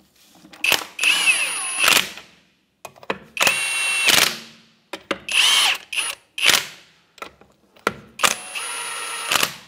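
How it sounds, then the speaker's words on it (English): A power tool with a 21 mm socket snugs up rear brake caliper bolts on a 2011-2016 Hyundai Elantra, giving four or five loud, close whirring bursts, each a second or so long, separated by short pauses. "Now with our 21 millimeter socket, we'll just snug these up."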